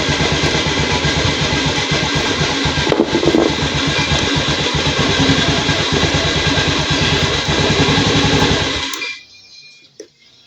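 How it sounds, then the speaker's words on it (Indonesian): A Honda Beat scooter engine with a battery fault runs at a steady, loud idle, then cuts out abruptly near the end, leaving near silence with a couple of faint clicks. "motornya malah mati ketika dicabut aki"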